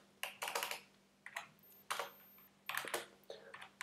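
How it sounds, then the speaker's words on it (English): Typing on a computer keyboard while laying out a simple app in a GUI builder, heard as quick bursts of close key clicks separated by short pauses. "type what you want"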